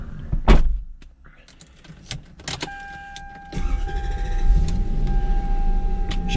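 A 1992 Lexus SC400 with a V8 engine, 73,000 miles on it, is started: door thunks and a power-window whir come first, then the engine catches and settles into a steady, close idle.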